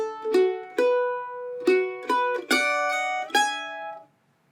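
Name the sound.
mandolin playing measures 9 into 10 of a song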